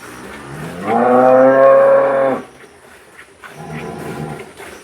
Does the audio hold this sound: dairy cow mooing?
yes